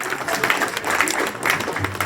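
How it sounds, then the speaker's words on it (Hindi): Applause from an audience cheering for girls at an Arya girls' gurukul event in Kolkata, a moderate burst of clapping with some voices mixed in. "एक बार कन्याओं के लिए जोरदार ताली बजाएं।"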